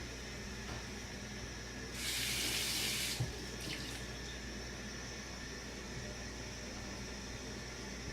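Tap water running into a stainless steel kitchen sink, a steady close hiss and splash, with a louder burst of spray for about a second as the stream hits the basin, then settling back to a continuous flow.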